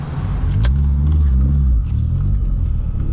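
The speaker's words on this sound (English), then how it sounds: "because this car's got a massive throttle body, it revs up very quickly" A 260 kW Mk2 GTS with a 16VT engine and a large throttle body revs quickly from inside the car, a deep close rumble climbing and settling as the pedal is pressed, loud throughout.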